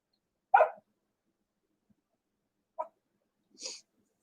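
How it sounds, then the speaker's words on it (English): A dog waiting at the door to be let in gives three short, separate barks spread over a few seconds, fairly close and otherwise quiet. "I gotta let a dog in, or he's gonna sit there and bark on it."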